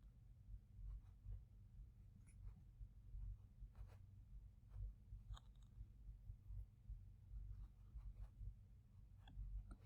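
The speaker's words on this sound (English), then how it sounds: "I'll just wait for myself to finish writing it." Pen or pencil scratches on paper while working through a calculus problem, faint intermittent strokes over a low steady room hum, with no talk.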